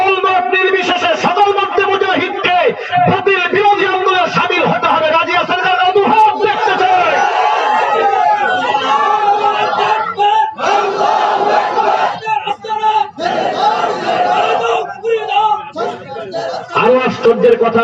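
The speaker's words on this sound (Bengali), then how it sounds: "এই নারায়ে তাকবীরে আল্লাহু আকবার স্লোগান মুসলমানদের ঈমানকে তাজা করে দেয়" A large crowd at an outdoor Islamic sermon gathering on Monpura field chants the Nara-e-Takbir Allahu Akbar slogan, loud massed voices roaring in repeated call-and-response waves that fill the whole stretch with only brief dips.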